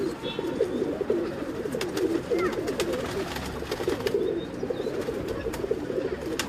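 An old pigeon held in a man's hands on a rooftop in Islamabad coos in repeated low, soft phrases, with faint background noise and sharp clicks scattered around it.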